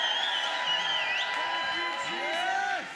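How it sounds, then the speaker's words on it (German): A church congregation cheering and shouting praise, a continuous swell of whoops and raised voices filling the hall, with individual shouts rising and falling over the crowd. "Lasst uns mal einen großen Jubel für Jesus ausrufen und Danke sagen."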